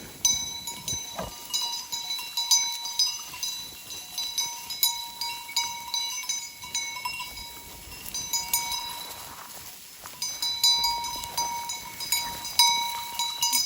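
Merino sheep bleat now and then in an open outdoor setting while birds chirp steadily in the background; no one speaks.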